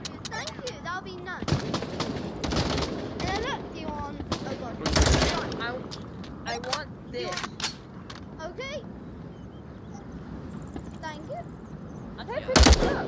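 Gunfire crackles through a squad match in the VR shooter Onward, with sharp bursts and scattered shots through the clip and a loud close crack near the end, while players talk over it throughout.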